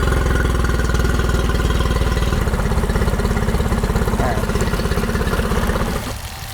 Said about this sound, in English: now that we have the engine somewhat warmed up